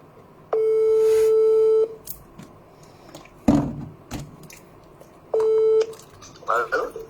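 A telephone call tone: two long, steady electronic beeps several seconds apart, fairly loud and close, with brief thuds and a short voice between and after them.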